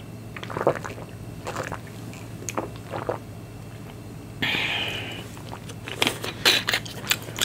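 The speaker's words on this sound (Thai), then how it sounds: "ก็เลยซื้อ ยำมะม่วงกุ้งสดมาลองกินดูนะครับ" Crunchy bites and chewing of a Thai spicy green mango salad with fresh shrimp, several crisp crackling bursts up close over a quiet background hum, without talking.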